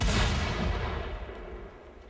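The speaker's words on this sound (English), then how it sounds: "You shoot a mine and nothing happens" A heavy gunshot blast in the Mad Max video game, booming loud and close at the start and then rolling away into a long, fading rumble with no voices over it.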